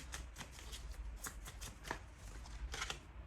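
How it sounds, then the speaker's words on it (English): A deck of tarot cards is shuffled and cards are pulled during a love reading, giving a quick run of soft, riffling slaps and flicks close by, with no voices. "so let's pull more cards to see"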